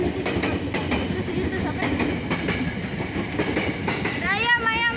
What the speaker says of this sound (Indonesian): Ini di sebelah jalan rel ya. Ya, itu kereta. Ini kereta.